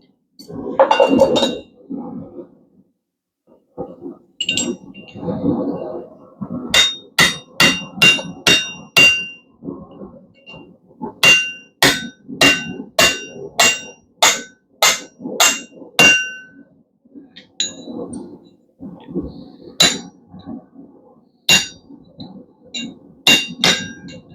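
Blacksmith's hammer driving a slitting chisel through hot steel, with sharp ringing metallic blows in quick bursts, near and loud, amid duller thuds and pauses between groups of strikes.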